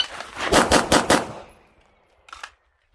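A SIG P320 carry optics pistol fires a fast string of four or five sharp, loud shots during a USPSA classifier stage, followed by a pause and one brief metallic clack as it runs dry.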